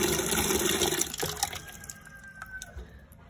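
Freshly harvested sunflower, kale and radish microgreens are rinsed in water, giving a splashy, running-water wash that is loud at first and then settles into softer trickles and drips.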